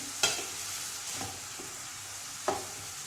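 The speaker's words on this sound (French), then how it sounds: "Je vais laisser ces oignons jusqu'à ce qu'elles prennent la couleur dorée" Onions sweating in a pan toward golden for a whiting and pepper tajine, a low steady sizzle broken by a few sharp spoon scrapes and knocks against the pot.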